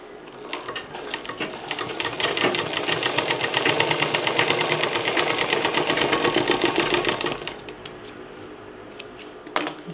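A sewing machine stitches a zipper onto a fabric pouch in a rapid, even clatter of needle strokes. It runs steadily for several seconds, then slows and stops with a few final clicks.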